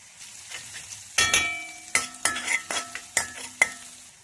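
Asafoetida, chilies, garlic and ginger hitting hot oil for a methi wadi, with a series of sharp stirring and clinking strikes over a steady frying sizzle, close and fairly loud, no voices.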